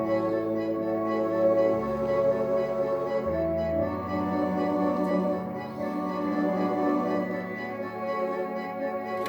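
Lord of the Rings theme played slowly at about one note per second on a keyboard, heard through Kenwood speakers; sustained tonal chords and melody ring steadily and evenly throughout, with no talking.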